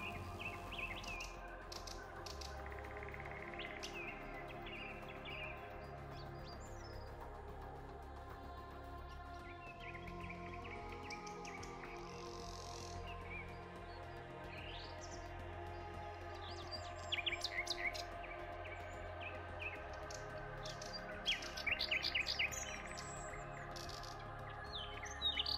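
Birdsong drifts from trees, with scattered chirps and tweets from several birds over a constant low background hum, some calls nearer and sharper toward the end.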